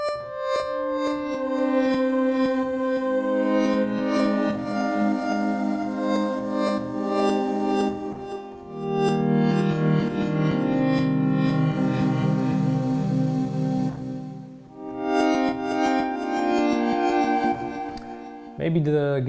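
Sustained guitar tones wash together with heavy reverb, chords ringing and blending into a smooth, echoing texture that swells and fades.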